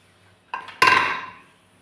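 A pressure cooker lid is opened after two whistles while making veg kurma, giving a soft metal click followed by a loud sharp metallic clank that rings briefly and fades.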